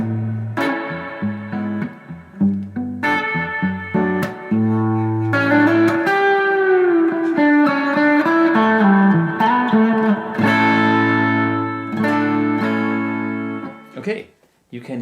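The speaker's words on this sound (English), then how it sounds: "you can hear this is what happens when you crank a tube amp" An electric guitar plays heavily overdriven through a cranked tube amp with power amp saturation, sustained chords and bent notes ringing out with thick saturation and blooming reverb.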